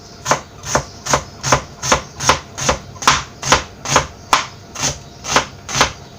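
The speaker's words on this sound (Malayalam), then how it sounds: "ഈ ഒരു കനത്തിൽ വളരെ നൈസായിട്ടാണ് ഞാൻ ഉള്ളി അരിഞ്ഞെടുക്കുന്നത്." Knife slicing two onions very thinly on a board for Kottayam-style Kerala chicken biryani, in a steady, close run of about thirteen crisp, evenly spaced cuts with no talking.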